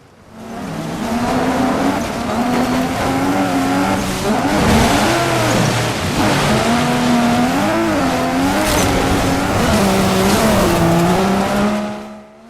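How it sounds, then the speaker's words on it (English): Rally cars race in an off-road simulator game, with loud engines revving up and down through gear changes and tire squeal, close and continuous, and no speech. "and rally cars."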